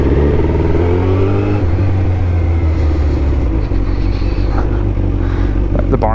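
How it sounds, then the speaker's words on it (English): A motorcycle engine idles and warms up close by, holding a steady low rumble throughout with slight shifts in tone. "Let the bike warm up and everything"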